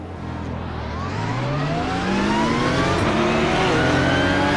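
Race car engine in the iRacing sim game roars loud and close, revving steadily upward through repeated gear pulls, with rising whine layered over a deep rumble and no pauses.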